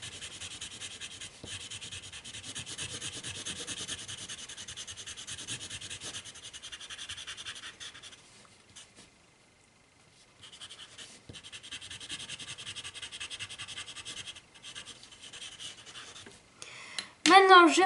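Coloured pencil colouring in a drawing, a continuous close scratchy rubbing of strokes that goes quiet for about two seconds midway before resuming.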